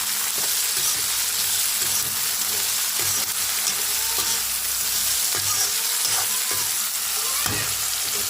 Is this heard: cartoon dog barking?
no